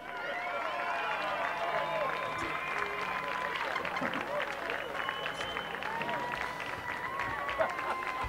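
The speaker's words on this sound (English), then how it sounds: "Let's give a round of applause to the 2016 third grade Super Bowl champions" Crowd at a third grade Super Bowl game applauding the champion team: a steady wash of clapping and cheering at moderate distance, with children's voices and chatter mixed through.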